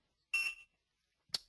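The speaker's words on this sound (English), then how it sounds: "you can either clear the audible alarm by pressing the push button on the product" A HOBO MX1101 temperature and humidity logger sounds its audible alarm in two short, shrill electronic beeps, the first longer and the second brief, with silence between them.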